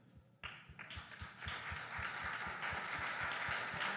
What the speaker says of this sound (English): why don't you just stand on your feet and just start applauding?